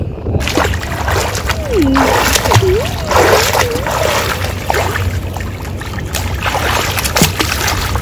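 Water splashing in a rooftop swimming pool at Tajpur, continuous sloshing and splatter up close, with people's voices mixed in.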